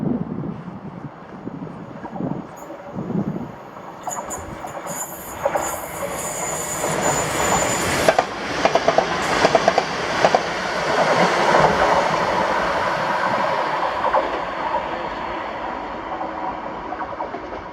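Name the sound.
ScotRail Class 334 passenger train passing at Bowling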